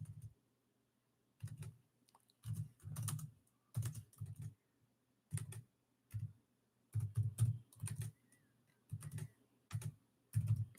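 Bursts of quick keystrokes on a computer keyboard as birth chart details are entered, close and clear, in irregular runs separated by short pauses with no talking.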